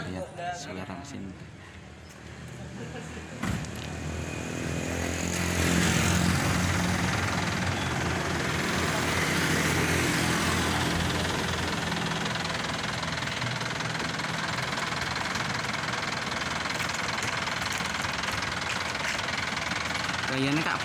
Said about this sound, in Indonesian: Kita coba lihat suara mesin.